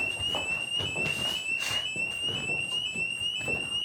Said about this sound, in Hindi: तुम्हें फायर अलार्म सुनाई नहीं दे रहा क्या?